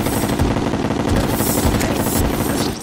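A gun fires rapidly in Terraria, a dense, continuous stream of loud automatic shots rattling on for nearly three seconds with no talk.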